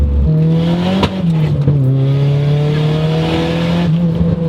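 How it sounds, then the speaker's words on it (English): A Nissan 240SX S14 with a turbocharged KA engine accelerating hard, its loud, steady engine drone close by and broken by a couple of sharp afterfire pops. "Had a nice little after fire there."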